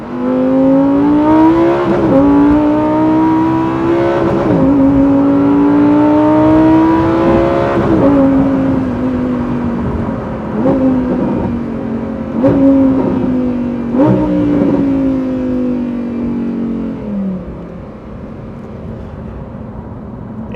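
A Lamborghini Huracán STO's naturally aspirated 5.2 litre V10 revs hard and loud, climbing in pitch through repeated high-rpm pulls with sharp drops at each shift or lift, heard without any talking.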